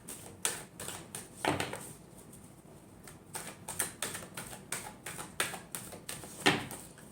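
Tarot cards are shuffled in a quiet, close-up series of crisp riffling taps and flicks, with irregular bursts and short pauses, and no talking.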